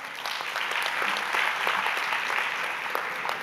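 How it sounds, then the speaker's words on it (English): Audience applause for a speaker, a full, steady round of many hands clapping that swells slightly and holds throughout. "A round of applause once more for him."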